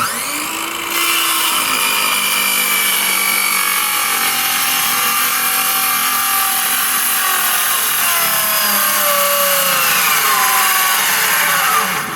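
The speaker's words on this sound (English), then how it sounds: "I left the saw at the thickness to cut plywood" A power saw cuts driftwood boards from the Tennessee River, a loud, continuous whining rasp that runs close up for the whole stretch after a brief start, with no speech.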